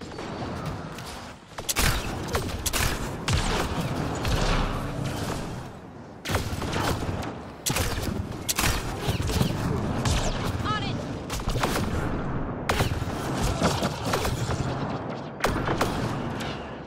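Heavy sci-fi gunfire in Mass Effect Andromeda, a battle for Meridian: repeated loud bursts and impacts over a dense, grinding combat din lasting throughout, with scattered voices mixed in.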